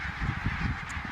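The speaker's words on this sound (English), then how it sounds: "both the barnacle geese and the white-fronted geese are Greenland populations in the breeding season" A large mixed flock of barnacle and white-fronted geese, Greenland populations wintering on Islay, honks continuously in a dense, overlapping clamour, with one clearer call standing out near the end.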